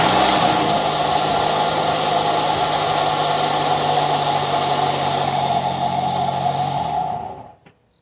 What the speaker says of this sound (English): I already turned on the engine, and it's turning on with no problem